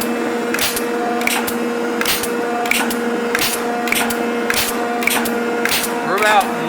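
A Rockford metal shaper runs at a faster speed setting, its ram stroking in a steady repeating rhythm of about one cycle every 0.7 seconds, each pass marked by a sharp clack over a continuous mechanical hum, close and fairly loud.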